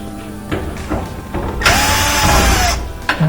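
A power drill backs screws out of a Samsung dryer's bulkhead, with short clicks and handling knocks before a whirring burst that rises and falls in pitch. A final brief buzz follows, all close by without speech.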